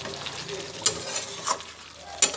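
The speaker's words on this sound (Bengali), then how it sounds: "এইভাবেই নাড়াচাড়া করতে করতে মাংস সেদ্ধ হয়ে এসছে" Chicken meat cooking in a pan with no added water, a steady sizzle punctuated by several sharp scraping stirs of a spatula, close and clear.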